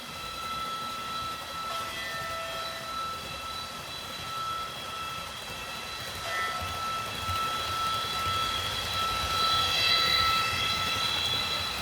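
A Piko H0 scale ICE model train running with its full sound system, a steady hum with tonal whines and whistle-like lines that swell slightly louder toward the end, no talking.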